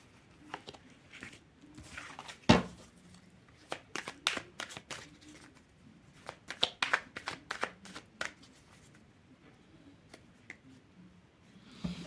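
Tarot cards are shuffled by hand in quick riffling bursts and soft slaps, close and fairly quiet, coming in uneven clusters across the stretch.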